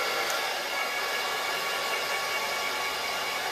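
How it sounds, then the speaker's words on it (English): A blow dryer rough-dries hair, making a steady, close, unbroken whoosh of rushing air that holds one level throughout with no voices. "I'm just going to rough dry my hair."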